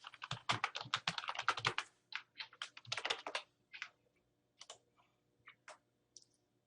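Rapid clicking keystrokes on a computer keyboard, a dense burst of typing at first that thins into scattered single key presses toward the end, close and fairly quiet.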